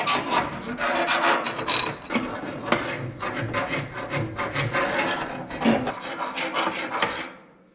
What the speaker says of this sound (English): you need to get in there and scrape it off